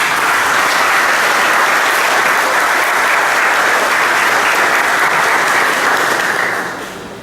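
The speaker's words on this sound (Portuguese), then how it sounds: "Uma salva de palmas" A parish gathering's audience breaks into a long, even round of applause, dense clapping holding steady throughout and fading slightly at the close.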